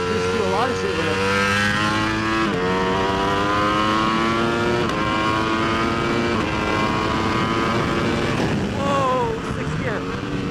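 A 2019 Ducati V4S superbike engine screams on a racetrack, its loud, steady high-revving howl climbing in pitch through each gear with sharp upshift breaks, close and continuous throughout.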